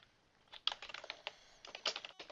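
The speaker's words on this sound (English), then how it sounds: "just type that in there, hit search" Someone types a search on a computer keyboard: quiet, close clicking keystrokes in quick irregular bursts, with brief pauses between runs of presses.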